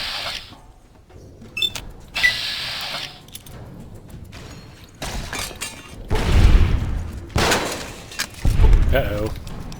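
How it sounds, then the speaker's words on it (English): Gauss rifle shots in Fallout New Vegas, loud sharp bursts with a rising electric whine, several spaced blasts over a busy game soundscape with occasional talk. "That's Mr. Gauss rifle. Yeah, you missed me."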